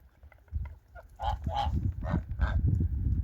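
Several geese honk in a rapid, overlapping series, close by and fairly loud, over low rustling background noise.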